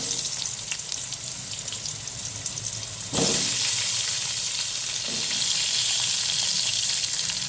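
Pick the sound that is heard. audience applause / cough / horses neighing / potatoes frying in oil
potatoes frying in oil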